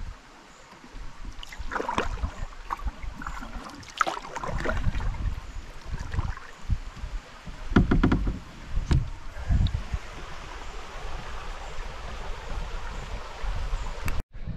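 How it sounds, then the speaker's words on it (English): River rapids rushing around a kayak, a steady close wash of moving water with bursts of paddle splashes and knocks against the hull, fairly near and loud, with no voices. "I think these rapids are going to be too much for me"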